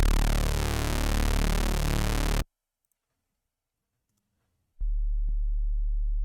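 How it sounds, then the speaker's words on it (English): Synthesized Reese bass, a dense buzzing low drone with a sweeping phasing texture that sustains, cuts to silence, then returns as a deep steady hum. "this Reese bass that is the base of all of the processing"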